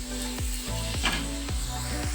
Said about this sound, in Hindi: मैं मसालों को पका लेता हूँ 2 मिनट के लिए।